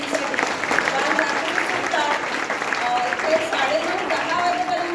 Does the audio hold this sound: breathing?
no